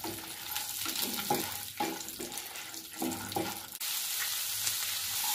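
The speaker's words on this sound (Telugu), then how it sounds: "గోల్డ్ కలర్ వచ్చే వరకు ఫ్రై చేసుకున్నాం" Two chilies, peanuts, urad dal and chana dal fry in hot oil as a tempering for an ivy gourd stir-fry, giving a steady close crackle with rhythmic stirring scrapes, then a smoother, even hiss after a sharp cut.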